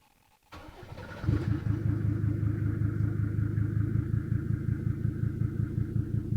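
A Mercedes 2.5-litre naturally aspirated diesel engine cranks over with a short starter whir, then catches and settles into a loud, steady, clattering idle close by.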